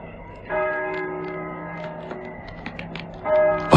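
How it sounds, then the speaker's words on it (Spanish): Church bells tolling in slow, ringing strikes, with long sustained metallic overtones that hum and overlap, fairly close and clear, and a fresh strike near the end. "¿Oyes? Las campanas doblan."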